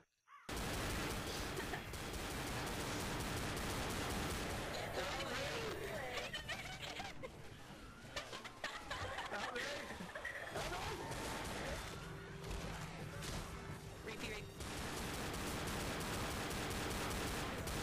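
Dense, continuous gunfire in the zombie shooter Left 4 Dead, rapid automatic bursts and shots filling nearly eighteen seconds, loud and close, with players talking and laughing over the shooting.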